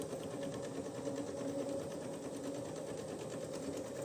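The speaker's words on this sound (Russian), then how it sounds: "Ориентируясь на нее, простегаю всю заготовку." A sewing machine stitches parallel quilting lines across a patchwork basket piece in beige thread, a steady fast mechanical whirring hum with regular needle ticks, close and continuous.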